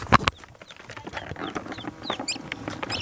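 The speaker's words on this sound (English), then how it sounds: "Inside of here we have chicks." Newly hatched chicks inside an incubator on day two give faint, scattered high peeps amid soft clucking and low rustles, fairly close and quiet, with no talk.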